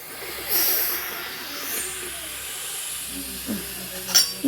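Steam hisses from a puttu cooker filled with coconut-shell puttu, a breathy rushing sound that swells and fades, with a few light metallic clinks near the end.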